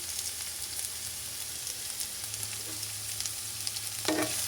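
Garlic and onions frying in a pan give off a steady, close sizzle, with a brief scrape of stirring near the end and no talking.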